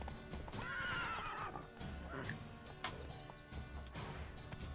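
A panicked horse in the video game The Witcher 3 lets out a loud shrill whinny, followed by clip-clopping hooves and a few thuds, close by with no talking.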